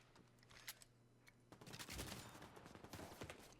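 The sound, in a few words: gunfire from specialization ammo in The Division 2 video game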